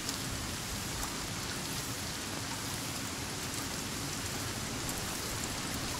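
Steady rain falls in the survival video game Sons of the Forest, a dense, even hiss of drops on surfaces that continues unbroken, with no talking.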